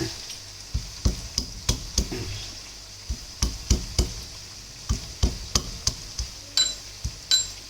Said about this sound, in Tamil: இந்த உரல் உலக்கையும் எடுத்துகிட்டு வரோம் அது அப்படியே ஒன்றா தட்டி